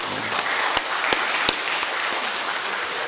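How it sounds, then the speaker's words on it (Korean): Applause from a church congregation welcoming a new member, steady clapping throughout with a few sharper claps standing out, fairly close and moderately loud. "교회 잘 적응하도록 우리 환영하는 박수 한번 쳐주시고요"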